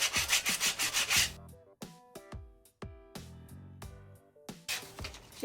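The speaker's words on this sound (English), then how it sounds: "Use some Dollar Tree sanding paper and just sand" Sandpaper from a dollar store rubs back and forth over the corner of a wooden block in rapid, close, scratchy strokes. Hollow wooden knocks come between the passes, then the sanding returns.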